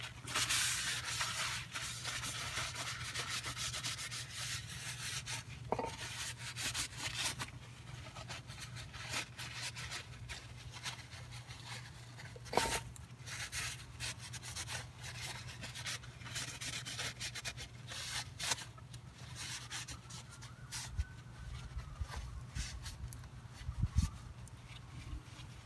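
A cloth wiping grease off Kia Forte brake parts gives a steady soft rubbing scrape throughout, close and fairly quiet, with a few small knocks and no talk.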